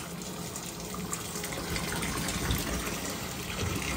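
Hot water runs steadily from a bathtub tap into a filling tub where a boot sits submerged, a constant close splashing gush with no pauses.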